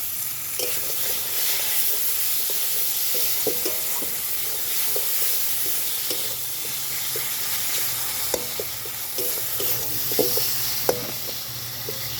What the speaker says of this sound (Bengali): এবার মশলাটা দিয়ে দেবো, যতক্ষণ তেল না ছাড়বে ততক্ষণ কষাতে থাকবো।